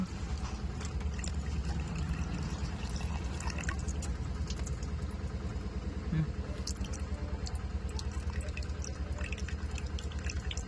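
Water being poured into a car engine to check for a leak, with a steady trickling and dripping over a low mechanical hum, fairly quiet and continuous.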